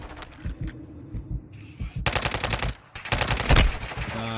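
Gunfire in the Warzone Mobile shooter game: a few scattered shots open the sequence, followed by loud, rapid automatic bursts that fill the second half.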